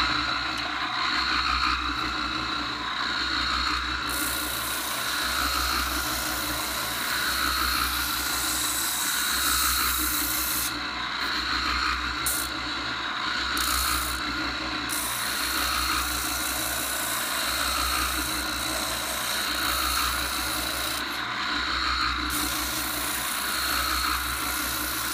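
A Harbor Freight oscillating spindle sander runs continuously while sanding curved cuts in 1/4-inch plywood, a loud, close, steady motor drone with a whiny rasp and a gently pulsing low hum, with no talking.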